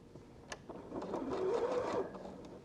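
A sewing machine stitches steadily through layers of fabric, easing around the curved toe of a Christmas stocking, its motor hum rising and running continuously close up before slowing, with no talking.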